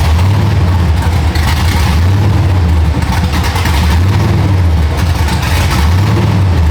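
An LS-swapped Chevy OBS truck with a Holley setup idles on its own, loud and close, with a deep, lumpy, rhythmically loping rumble that keeps swelling and dipping steadily with no break.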